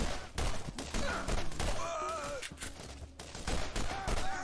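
Video game gunfire, dense rapid bursts of shots in a loud continuous fusillade with a faint voice underneath.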